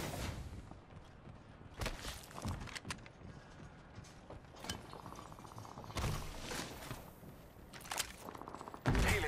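A replicator crafts an item in Apex Legends with faint mechanical whirring and clinking, soft metallic clicks scattered over a low background hum, with occasional sharper transients.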